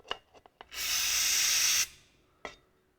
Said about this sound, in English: Sometimes I just run a bit of brake cleaner up there